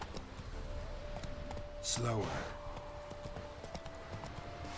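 Roach the horse's hooves clip-clop in The Witcher 3, a steady walking beat under constant game ambience, with someone talking over it.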